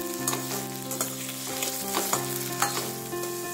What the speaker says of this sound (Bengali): এবার মিডিয়াম ফ্লেমে রেখে আলুগুলোকে ভালো করে ভেজে নিচ্ছি।